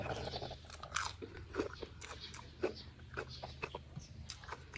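Crisp, close crunching from crunchy vegetables and shrimp being chewed, a run of irregular bites and munches with a faint background hum.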